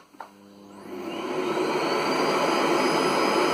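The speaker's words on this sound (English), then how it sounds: "considering how powerful this vacuum cleaner is, it's very quiet" A Miele Blizzard CX1 cylinder vacuum cleaner switches on with a click, its motor rising into a steady, fairly loud whoosh at full suction, heard up close with no talking.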